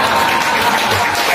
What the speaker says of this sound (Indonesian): Tepuk tangan dulu yang basic.